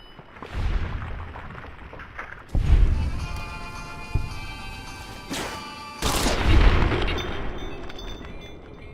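Heavy gunfire in a modded Fallout game, TTW, aimed at creeper enemies: loud booming shots with ringing tails come in separate bursts, one early, a cluster near the middle and a final heavy blast, with no talk over them.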